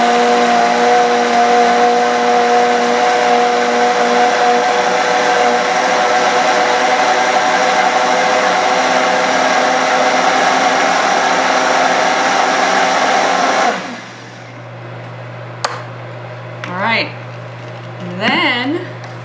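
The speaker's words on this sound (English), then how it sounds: "our blender goes off a time. Right now it's set at like 20 seconds, so I run it about twice on 20 seconds" An old kitchen blender whirs loud and steady as it churns raw oatmeal, running continuously for about fourteen seconds before cutting off abruptly, after which only faint room noise and a few brief sounds remain.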